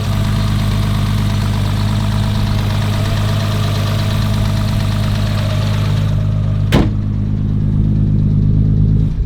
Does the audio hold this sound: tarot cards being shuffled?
no